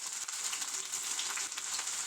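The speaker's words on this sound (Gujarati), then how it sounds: "આ પરવળ ધોઈ અને કટ કરેલા એ આમાં નાખી દઈશું" Washed, cut pointed gourd (parwal) pieces hiss in a hot pan, a steady bright sizzle holding evenly throughout, close and moderately loud with no talking.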